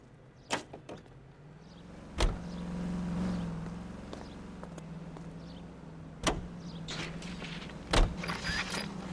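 A car driven in the 1940s Los Angeles crime game L.A. Noire: a steady low engine hum runs throughout, swelling slightly in the middle, with a few sharp clicks and knocks scattered over it.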